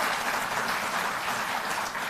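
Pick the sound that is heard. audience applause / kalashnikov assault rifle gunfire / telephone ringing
audience applause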